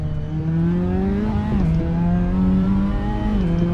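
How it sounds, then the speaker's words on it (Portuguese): A hybrid LMP2-style prototype race car in Assetto Corsa gives a loud, smooth, continuous engine whine that dips briefly, as if at a gear change, then holds steady. No one talks over it. "o barulho dessa porra, mano, parece um carro elétrico. Parece um LMP2"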